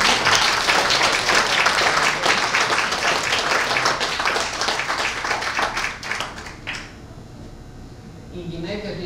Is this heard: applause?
yes